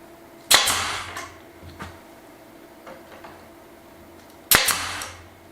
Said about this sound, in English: And bang a nail in it.